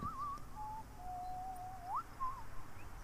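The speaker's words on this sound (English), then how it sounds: "I have no idea who was whistling" Whistled melody in the video game Final Fantasy X, a single clear tune of sliding and held notes over a low ambient background, with no talking.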